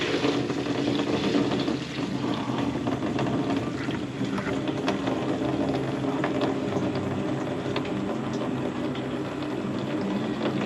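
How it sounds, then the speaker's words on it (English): Diesel fuel pours and trickles through a Mr. Funnel filter funnel, a continuous liquid gurgle and splash heard close up, steady throughout with no talking. "I'm going to pass all this fuel through Mr. Funnel."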